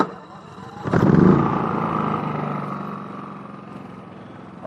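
A Champion 4500W dual fuel inverter generator cranks and catches with an abrupt burst, then settles into a steady running hum that slowly eases in loudness; no talk is heard.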